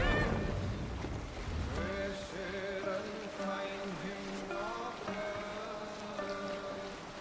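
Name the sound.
sailing ship sailing at sea with sail raised, Assassin's Creed Valhalla video game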